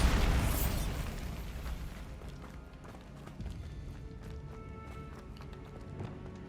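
A Bombarda blast spell going off in Hogwarts Legacy: a loud, booming explosion at the start that rolls and fades over a couple of seconds, followed by scattered clatters and smaller pops, with no talking.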